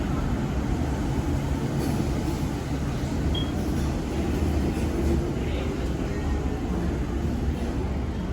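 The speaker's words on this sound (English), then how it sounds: "as this K set leaves the station" A Sydney K set double-deck train pulls out of Central Station as a loud, continuous rumble of wheels and motors, with steady rail noise filling the platform and no voices.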